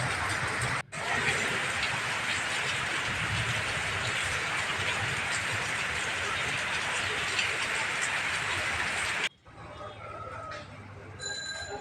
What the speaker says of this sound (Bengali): একটু থামছে বৃষ্টিটা